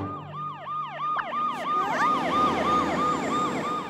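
A cartoon fire truck siren wails in quick, repeating up-and-down sweeps that grow louder and layer over one another as it approaches, with a rumble of vehicle noise underneath.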